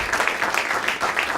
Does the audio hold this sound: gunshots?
no